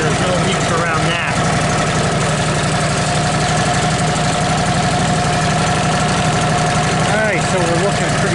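A Kohler 19 horsepower engine on an LT15 Woodmizer sawmill runs at a steady, loud, rumbling idle with a fine rapid pulse, and a person talks over it.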